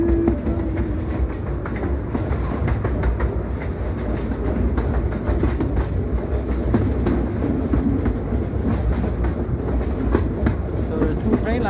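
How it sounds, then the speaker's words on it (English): Tourist train riding through forest at Iguazu Falls, with a steady rumble and continuous rhythmic clatter of wheels on rails heard from on board, loud and constant, with occasional voices underneath. "Choo-choo train."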